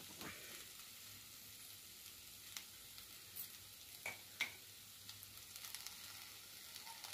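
Pieces of ivy gourd fry in a pan with coconut chili powder, giving a soft, steady sizzle with faint stirring scrapes and taps now and then, quiet and without talk.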